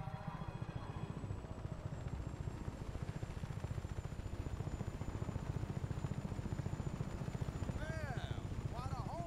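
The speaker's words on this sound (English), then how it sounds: "So that chopper has taken some damage." A damaged helicopter in the video game Just Cause 3 drones with a steady, rapid rotor chop that stays loud and close throughout, while a brief rising whine sweeps in near the end.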